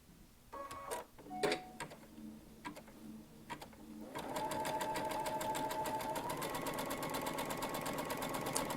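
A Baby Lock Altair sewing machine stitching over a bridging plate at stitch length 1 and width 7, first a few short clicks and whirs, then a fast, even mechanical chatter running continuously at close range.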